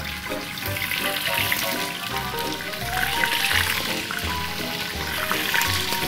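Octopus and rice cooking in a frying pan, sizzling and splattering steadily and fairly loudly up close, with a continuous crackling hiss and no voices.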